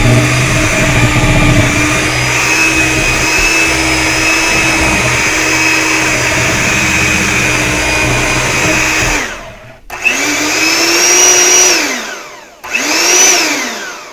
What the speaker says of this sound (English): Sorry for the mixer noise